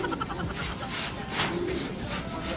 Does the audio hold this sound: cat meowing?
no